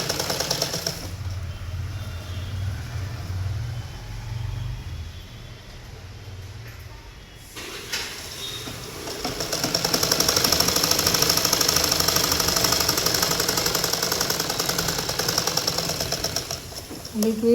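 A sewing machine stitches a skirt seam with a fast rattling chatter, quieter and muffled at first, then running louder and steadier through the second half.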